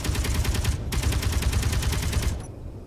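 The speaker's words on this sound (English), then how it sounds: "You can actually shoot the gun," Front gun of a fighter aircraft in Space Engineers firing rapid, continuous automatic bursts, loud and close, with a brief gap before a second long burst that cuts off abruptly.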